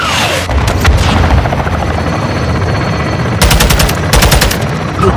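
Gunfire in a Call of Duty video game under a loud helicopter drone, with two rapid machine-gun bursts late in the clip and heavy booms at the start.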